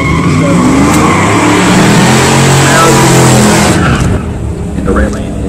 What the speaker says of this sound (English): '1964 Pontiac GT on the left lane. Tri-power, 348 horsepower.